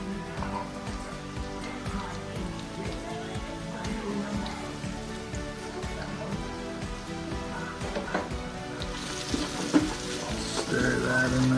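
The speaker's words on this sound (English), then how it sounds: "now let's add the garlic" Garlic frying in a pan for a ragu sauce, a steady dense sizzle with crackling pops throughout, rising slightly louder toward the end, with no talking.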